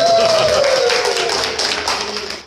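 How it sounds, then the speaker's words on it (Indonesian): Loud, dense audience applause fills a hall at a marriage-counselling event, broadband and continuous throughout with a sustained whistle or voice tone gliding downward over it and faint talk mixed in. "Tepuk tangan yang gemuruh."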